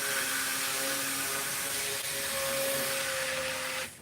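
A cheap stick blender runs steadily while mixing lye for homemade soap, a close, loud motor whine with a constant pitch that holds for about four seconds and then stops abruptly.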